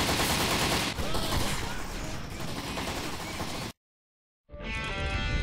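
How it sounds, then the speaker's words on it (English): Sustained, dense gunfire from shooting at high-health boss enemies in the video game Postal 3, rattling steadily for several seconds, breaking off in a brief silence, then resuming. "I spend more time shooting them than usual"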